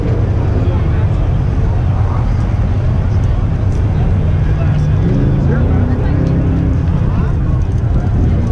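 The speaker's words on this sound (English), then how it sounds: "Yeah, there's another car now." A car rolls past at a custom car show, its engine a steady low rumble close by and continuous, mixed into crowd and outdoor ambience.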